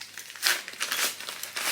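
A Fnac parcel being torn open by hand without scissors, its packaging crinkling and crackling in quick close bursts of rustle for a couple of seconds.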